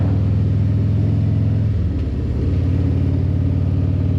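A Harley-Davidson motorcycle engine pulls uphill in sixth gear at about 80, a loud, deep, steady throb whose pitch dips and then settles as the throttle opens.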